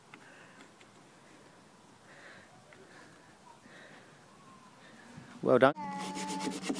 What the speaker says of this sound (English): Here we're just sanding off some old pencil marks.